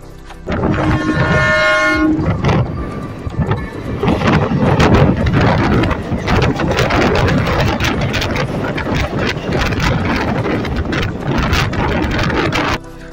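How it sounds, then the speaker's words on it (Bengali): A local train from Sealdah to Krishnanagar rattling fast along the tracks at 90 to 100 km/h, loud and close, with a horn blast at the start followed by continuous clattering wheels and wind rush. "আমাদের ট্রেনটা এখন ছুটে চলেছে"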